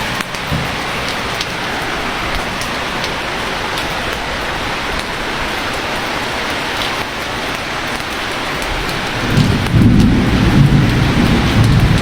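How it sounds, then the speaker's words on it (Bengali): A heavy, unbroken downpour roars loud and close, with a low rumble of thunder swelling in near the end and no voices. "অঝরে বৃষ্টি নামতেছে, দেখেন সকাল থেকে এরকম বৃষ্টি, প্রচুর প্রচুর বৃষ্টি নামতেছে।"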